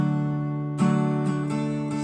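Acoustic guitar playing the chorus of a song: a sustained chord rings, then fresh strums land in steady succession, close and clear with no voice.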